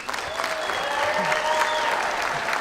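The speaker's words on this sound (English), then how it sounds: "I would like you to clap for them" Audience applause at a women truck drivers' awards event, a steady wash of many hands clapping at moderate loudness, with faint murmur and a brief tonal line running underneath.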